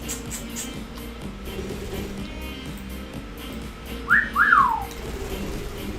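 Albert, a pet bird, gives two quick sliding whistles, rising then falling, near the end over a low indoor hum. The whistles are close and clear but brief.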